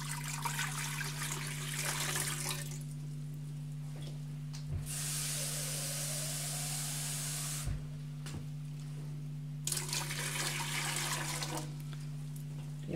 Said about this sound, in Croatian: U šerpu sipamo vodu.